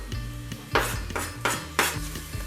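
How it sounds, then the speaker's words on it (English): Chopped garlic goes into a pot of cooking onions for lentil French onion soup, bringing several sharp metallic clanks of a utensil against the pot at a steady pace, close and fairly loud, with a low hum underneath. "Now we have a couple minutes left, so I'm gonna add 5 cloves of chopped garlic."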